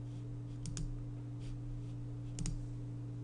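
Soft computer mouse clicks while working in Adobe Illustrator, two quick pairs of faint clicks about two seconds apart over a steady low electrical hum.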